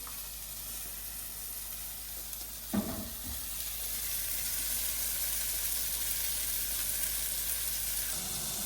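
A cod fillet sizzles in butter in a pan, a steady bright hiss that swells slightly after a brief clatter, heard alone without talk.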